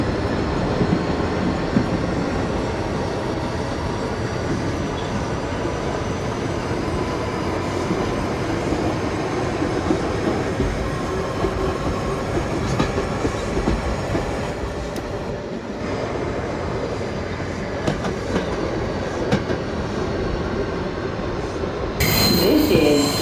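R160 Siemens subway train on the E line in the openbve simulator game, running with continuous rumbling wheel and motor noise, steady and moderately loud, with a brief louder burst near the end.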